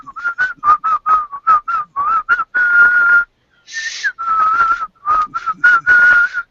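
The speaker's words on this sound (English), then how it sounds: "Someone whistle." A person whistles a rapid series of short notes, then longer held tones, loud and close with brief pauses between phrases.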